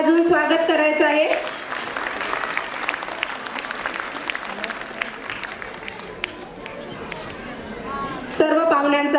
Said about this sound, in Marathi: सर्व मान्यवरांचं एकदा जोरदार टाळ्या वाजवून स्वागत करायचं आहे.